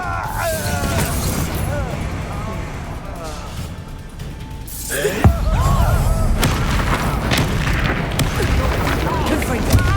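Bombarda and Confringo spell explosions go off in Hogwarts Legacy: a deep booming blast with a sharp crack near the middle, followed by loud crashing and rumbling, while character voices call out over the din.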